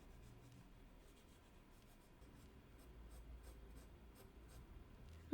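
Markers scratch and rub softly across a sketchbook page while sketching, a quiet, close, continuous scribbling texture with short stroke-like pulses growing slightly louder toward the end, with no talking.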